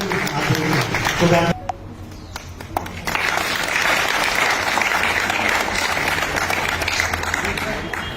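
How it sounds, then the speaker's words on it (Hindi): Loud, sustained audience applause fills a Subodh Public School ceremony in Nawalgarh honouring 12th-grade arts results, with a voice over the opening moments before the clapping continues steadily throughout. "बस जोर से बजाएं तालियां"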